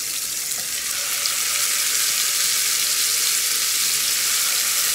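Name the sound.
peri peri chicken frying in a pan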